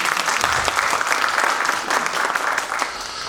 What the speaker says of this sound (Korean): 존경의 박수 부탁드립니다.